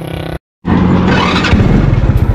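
A vehicle engine idles and revs as it warms up before a ride home, loud and close, broken by a brief gap, then rumbling with a pulsing, throbbing idle.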